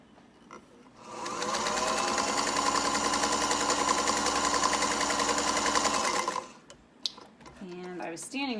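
A very fast sewing machine stitching fabric, a loud, rapid mechanical whir running steadily for about five seconds before stopping, followed by someone talking.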